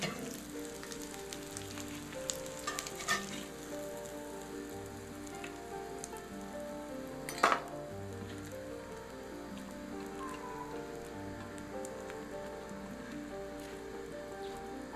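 Sausages and an egg sizzle and spit in a frying pan, a steady close crackle with scattered louder pops running throughout.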